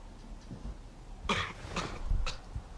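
Several dry coughs from a man inside an eerie Backrooms garden area with a statue, rising as short bursts over a quiet background hum, moderately close and with no talk over them.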